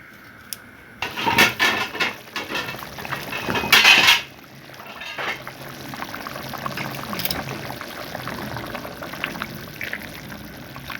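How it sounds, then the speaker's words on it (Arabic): Dry orzo pasta poured into a pan of frying fava beans, a loud rattling, sizzling rush of tiny grains for a few seconds, then a steady soft crackle of frying. "هنزل لسان العصفور"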